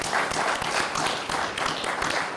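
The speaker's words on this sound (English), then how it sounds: "Let's give all the candidates one more big round of applause." Dense crowd applause for the candidates at a county candidate forum, many hands clapping steadily at a moderate volume without a break.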